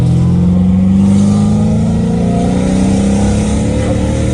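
A Dodge Hellcat Redeye engine roars loudly and steadily under hard acceleration, its deep, strained note climbing in pitch through a sustained pull with no break.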